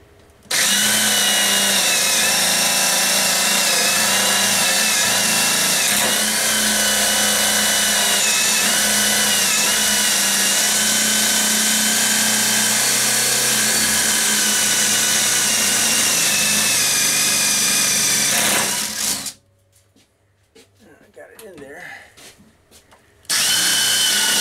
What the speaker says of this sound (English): Drill. That's why it's making noise.